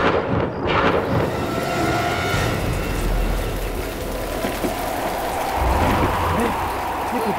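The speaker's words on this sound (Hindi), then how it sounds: "ये तूफान कैसा?" Sudden stormy weather in a graveyard setting, with a steady broadband roar of wind and rain running throughout and low rumbling swells like thunder, loud and continuous with no voices.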